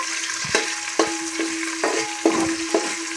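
Peas and potatoes sizzle steadily in a hot pan while a utensil stirs them, giving repeated scraping clanks at a loose, irregular rhythm, close up, with no talking.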